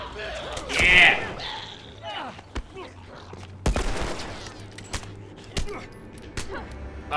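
Gunfire in the video game The Last of Us: several sharp shots crack out at irregular intervals, with excited voices talking and shouting over them.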